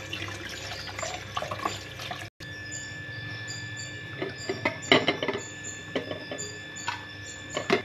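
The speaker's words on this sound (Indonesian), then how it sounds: "ini tahunya kita cuci ya teman-teman biar bersih." Tofu being rinsed under a running kitchen tap, with steady water flow splashing into a sink and scattered drips and clinks, followed by a brief gap and then more intermittent splashing and handling sounds.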